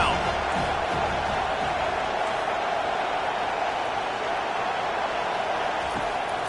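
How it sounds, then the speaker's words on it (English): Stadium crowd roar in NCAA 25 during a college football game between FSU and Miami on third down, a steady, dense wash of cheering that holds loud and even throughout with no pauses. "Decibels rising as the crowd gets behind this defense on 3rd down."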